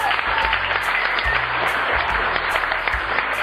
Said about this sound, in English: I gotta have one more round of applause for this power couple